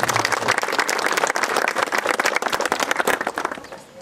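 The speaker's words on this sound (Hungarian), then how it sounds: "Megérdemelnek egy tapsot" Audience applause at an inauguration ceremony in Abádszalók, dense clapping from a crowd sustained for about four seconds before tapering off at the end.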